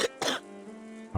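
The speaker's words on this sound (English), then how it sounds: "After all day, bro started coughing." Two sharp coughs burst out close together, followed by a quiet pause and then a third rough cough.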